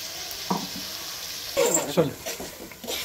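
Chicken fried with a ground masala paste for a varutharacha chicken gravy sizzles steadily in a pan, with a few close clanks and scrapes of stirring and a voice heard briefly.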